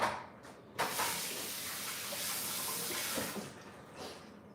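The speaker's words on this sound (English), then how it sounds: "I gotta wash my hands because they're sticky." Tap water gushes into a sink as sticky hands are washed, a broad steady rush close by that starts abruptly, holds for a few seconds and tapers off, with no talking.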